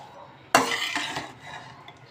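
Chopped cabbage and mixed vegetables for spring rolls are tossed together in a pan, with one sharp clatter of a utensil followed by a brief stretch of softer scraping and stirring that fades out.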